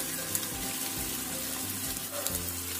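Potato slices fry in a shallow layer of hot oil in a pan, giving a steady close sizzle with small crackles and occasional louder pops and bubbling, with no voices.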